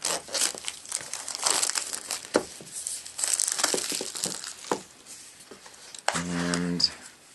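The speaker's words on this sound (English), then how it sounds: "So let's get the plastic off of here." Plastic shrink wrap being cut and peeled off a 5th generation Apple iPod Touch box with a dull cutter, giving near, close-up crinkling and tearing rustles in bursts throughout, with a stretch of soft talking partway through.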